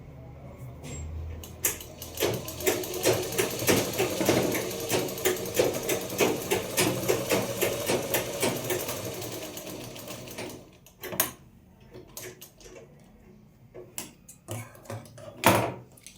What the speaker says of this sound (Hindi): मैं इसमें डबल सिलाई लगा लेती हूँ।